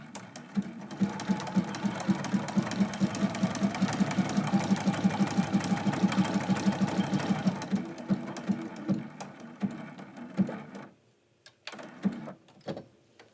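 A sewing machine runs steadily, stitching down candy cane pieces while quilting a Christmas quilt block, close and continuous for about eight seconds before stopping, then a few scattered handling clicks.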